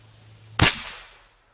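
A Bin Tac M50 air rifle fired through a Hushcan suppressor gives a single sharp, muffled crack that tails off quickly in a quiet setting.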